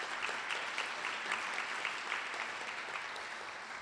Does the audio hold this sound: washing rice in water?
no